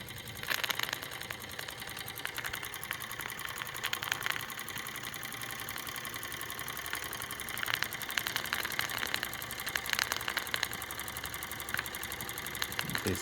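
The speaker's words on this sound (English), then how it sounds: "as the cylinder continues to come up to temperature, it will increase revs without me having to adjust the throttle much" A Wilesco D455 model steam engine runs at moderate revs as its cylinder warms, giving a fast, even mechanical chatter and hiss that holds steady throughout, close up with no voices.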